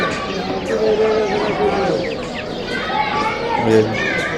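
Chickens cluck and a rooster calls amid a busy crowd at the Mirpur-1 pigeon and poultry market in Dhaka, with people talking and children's voices around them.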